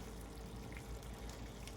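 Pasta water bubbling in a pot on the stove, a steady low churning boil with a soft, continuous simmering texture, fairly quiet and unbroken throughout.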